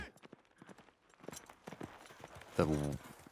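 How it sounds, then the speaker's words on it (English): Horse hooves clip-clop in The Last of Us Part II, a series of soft hoof steps under steady talk, ending in a louder clustered burst. "A lot of iteration on this horse animation right here."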